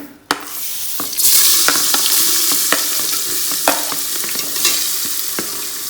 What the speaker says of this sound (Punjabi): ਹੁਣ ਆਪਾਂ ਇਸ ਦੇ ਵਿੱਚ ਪਿਆਜ਼ ਪਾ ਦਵਾਂਗੇ ਕਿਉਂਕਿ ਆਪਣਾ ਮੇਥੇ ਸਾਰੇ ਭੁੱਜ ਗਏ ਹਨ